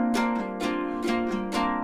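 A pedal harp strummed across its strings like a guitar, giving a thin, ukulele-like twang; several quick strums sound close and alone over a sustained ringing chord.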